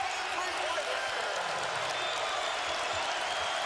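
College basketball arena crowd at a Michigan versus Xavier game, cheering and applauding in a dense, continuous roar, with a commentator talking over it.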